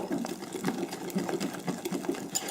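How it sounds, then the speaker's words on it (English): Batter ingredients whisked briskly with a small whisk or fork in a bowl, a fast rhythmic scraping and tapping that repeats steadily throughout, close up and with no talk. "use a little whisk or a fork, doesn't matter, just to get the ingredients all blended well together"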